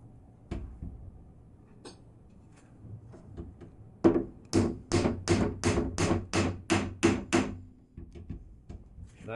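Pieces being driven into a wooden chest with a hammer and left slightly proud. A few scattered light taps come first, then a run of about nine firm, evenly spaced close blows that stops abruptly.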